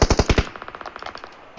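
A fast, close burst of automatic gunfire in PUBG Mobile, about five loud shots followed by a quicker string of fainter, more distant shots fading out over a second and a half.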